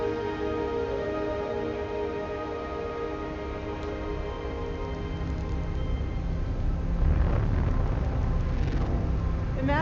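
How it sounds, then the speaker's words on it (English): A sonification of black hole gravitational waves, a lighter black hole falling into a very heavy one, plays as a dense sustained drone of layered tones with rising chirp-like sweeps that swell louder toward the end. "The sound you're hearing is a light black hole banging on space each time it gets"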